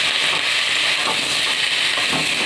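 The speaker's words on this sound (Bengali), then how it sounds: "ভাজতে থাকবে। হলুদ গুঁড়োটা দিয়ে দিচ্ছি। হলুদ গুঁড়োটা দেওয়ার ফলে তেলটা ছিটবে না।" Ridge gourd frying in hot oil with turmeric powder, a close, steady sizzle and crackle with light stirring throughout.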